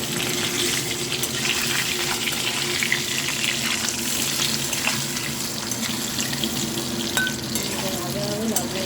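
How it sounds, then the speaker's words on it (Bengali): Boiled potatoes fry in a pan for egg-and-potato curry, giving a steady, loud sizzle with occasional stirring scrapes throughout, close up and with no talking. "আলুটা ভেজে নেব।"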